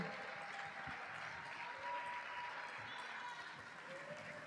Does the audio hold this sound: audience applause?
yes